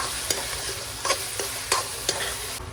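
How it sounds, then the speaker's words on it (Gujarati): Bottle gourd and spinach vegetables stirred in a pan with lemon juice and coriander-cumin powder for muthiya, giving a continuous soft sizzle punctuated by regular spoon clicks against the pan, close and even. "બધું મિક્સ કરી લેવાનું છે"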